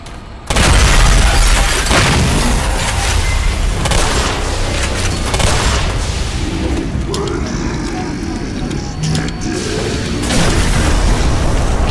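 Gunshots and explosions from the Half-Life remake Black Mesa fill a dense, loud game soundscape, with sharp bursts and booming blasts that continue throughout, under and between a player's excited talking.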